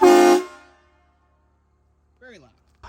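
A train horn fitted to a 2005 Chevrolet Silverado 2500HD pickup with a turbocharged 6-liter LS engine gives one short, very loud, close blast that cuts off sharply, followed by brief bits of speech.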